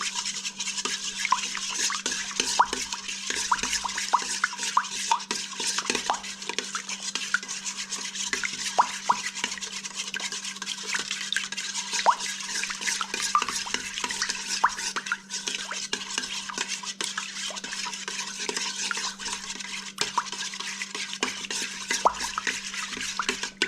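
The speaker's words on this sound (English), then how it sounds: "We're going to go ahead and mix all this together." A whisk or spoon works briskly through cinnamon roll dough ingredients — melted unsalted butter and a room-temperature egg — in a bowl, a continuous fast scraping and clicking rhythm, close and steady, with no talk.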